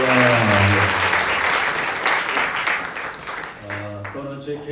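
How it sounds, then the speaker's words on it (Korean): A church congregation at a Christmas service breaks into sustained, loud applause that fills the room for several seconds, with faint voices or music at its start and end. "우리 한번 하나님께 영광의 박수 한번"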